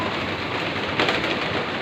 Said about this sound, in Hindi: यहाँ पर अभी देखो, मतलब बरसात चालू है।